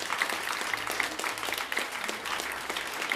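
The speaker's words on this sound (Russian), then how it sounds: "Я хочу, чтобы отдельно прозвучали аплодисменты в адрес Татьяны." An audience claps at a concert event, dense continuous applause filling the room, steady and fairly loud throughout.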